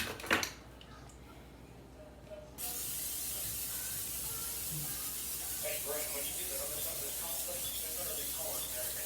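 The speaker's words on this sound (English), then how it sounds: "Alright, so let's spray this again." After a brief short spurt, cooking oil spray hisses in one long continuous blast, steady and close, lasting several seconds.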